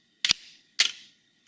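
Two sharp mechanical camera shutter clicks about half a second apart, crisp and close, each with a short metallic tail.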